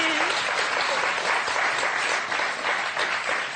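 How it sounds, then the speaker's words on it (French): Loud, sustained applause from a French game show studio audience, steady clapping throughout with no break. "Et si on les applaudissait très"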